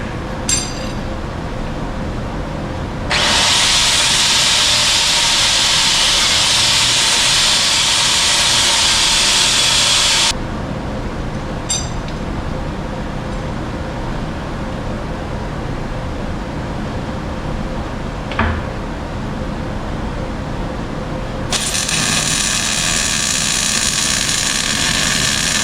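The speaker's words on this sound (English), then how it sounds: "Okay, try the welder again." An arc welder runs on steel for a homemade skid steer snowblower, steady loud crackling buzz in two long bursts separated by quieter shop hum, with a short click between.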